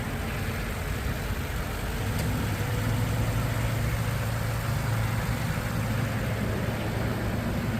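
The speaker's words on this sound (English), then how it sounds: "engine sounds perfect" A Lexus LX570 engine idles steadily under the open hood, a low continuous rumble with an even hum and no talk over it.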